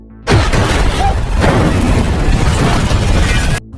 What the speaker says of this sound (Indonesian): satu mobil pengawal di depan tiba-tiba meledak